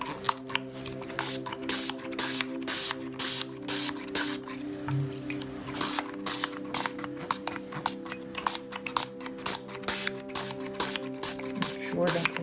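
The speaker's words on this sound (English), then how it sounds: "Let's spray it with rubbing alcohol." Repeated short hissing sprays of rubbing alcohol from a spray bottle onto soap, bursts of varying length in quick irregular succession over a steady low hum.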